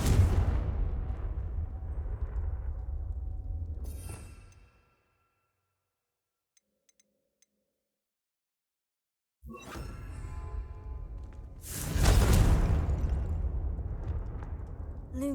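Confringo, the explosive spell in Hogwarts Legacy, goes off as a loud burst with a sharp crack and booming rumble, set between stretches of heavy low game ambience around a near-silent gap.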